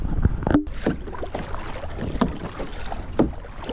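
Kayak paddle strokes on a glacier lake in the mountains, a few distinct splashing pulls about a second apart, close by over steady wind and water noise.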